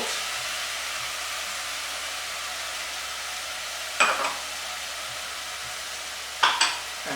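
Meat sizzles steadily in a pan with vinegar and salt while being gently stirred, a constant frying hiss broken by two brief scraping clatters near the end.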